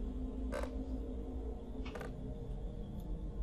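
Old wooden doors on a rotted porch creak open, with two distinct creaks about a second and a half apart and a fainter third near the end over a low hum.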